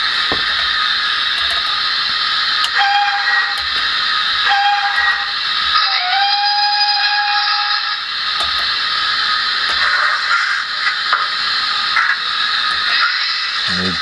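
A model locomotive's sound chip plays a loud steam whistle with several short toots and one longer blast. They sound over a constant hissing steam chuff, alone without voices.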